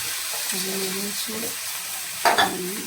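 A spoon scrapes and stirs potato chop filling in a frying pan, with soft sizzling underneath and a sharper scrape near the end. A voice hums briefly in the background.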